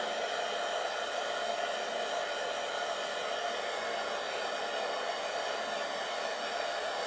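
A hair dryer blows steadily and loudly at close range while drying decoupage napkins glued onto a pumpkin, a continuous hiss with no pauses or talking.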